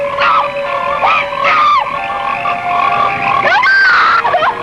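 Frogs croak loudly in a film trailer, a chorus of overlapping ribbity calls and warbling croaks that rise and bend in pitch, close and dense with no pauses.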